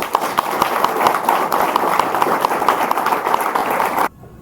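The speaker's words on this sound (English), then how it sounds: "give him a warm applause" An audience applauds to welcome a speaker at a talk: steady, dense clapping from a moderate-sized crowd fills the room for about four seconds and then stops abruptly.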